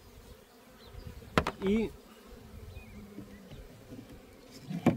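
Honey bees hum faintly around a hive frame during beekeeping, a low continuous buzz with one short louder drone passing close by and a single spoken word.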